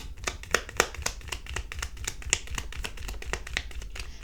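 Tarot cards being shuffled by hand, a quick run of crisp flicking and riffling snaps in close, fairly quiet succession with no voice.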